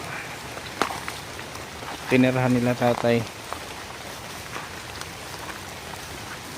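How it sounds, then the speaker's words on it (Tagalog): Heavy rain pours steadily with a constant broadband hiss, and someone speaks briefly partway through. "Grabe ang ulan dito, walang tigil, ilang linggo na to."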